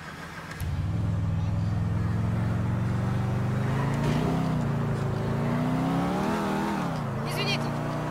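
A car engine drones and revs steadily in the GTA 4 video game, rising and falling in pitch as the car accelerates, with a voice talking over it.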